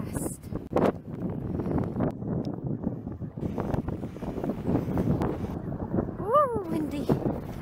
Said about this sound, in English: Very windy and she's going so fast.